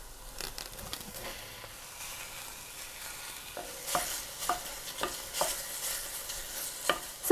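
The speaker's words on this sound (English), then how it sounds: "Then I'm going to add my Italian sausage." Italian sausage sizzles and fries in a single pot for a creamy Tuscan pasta, with a steady crackling hiss and a run of sharper scraping stirs toward the end, close and moderately loud, no talking.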